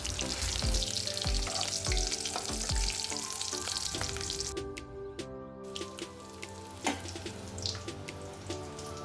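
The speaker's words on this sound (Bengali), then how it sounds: "তো চলো এইভাবে আমরা বড়াটা ভেজে নিই।" Fritters (bora) frying in hot oil make a steady, close sizzle throughout, with small scraping and clinking kitchen sounds; the hiss eases slightly partway through before picking up again.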